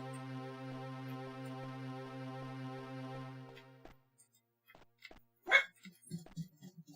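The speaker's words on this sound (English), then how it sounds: "Oh, the dogs are once again popping off." Dogs burst into a short flurry of barks and yips close by after a long steady tone cuts off, the barking coming in uneven clusters toward the end.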